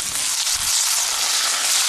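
Tomatoes hiss in hot oil with ginger-garlic paste while they are sautéed for a mutton curry. The sizzle is brief, steady and close, with no voice over it.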